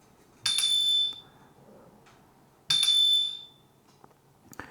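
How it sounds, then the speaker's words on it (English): Electronic bike bell from a Garmin Edge 1050 cycling computer chimes twice, each a bright, close ring with a short trailing decay, separated by a couple of seconds of quiet background. "the bell, which is a cool little feature they've added"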